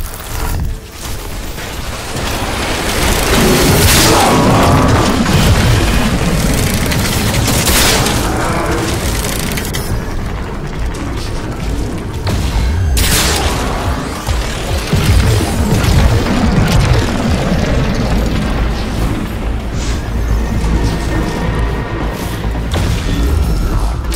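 Artillery firing in the video game Crysis 3: a loud, sustained barrage of booms and crashing blasts that rumbles almost without a break, with heavier detonations standing out.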